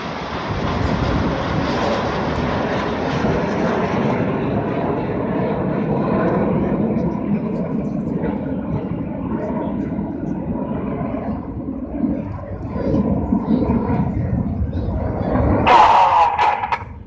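Red Arrows display jets pass in Tornado formation at the 2016 Sunderland Airshow, a loud sustained jet roar filling the whole stretch and swelling again near the end.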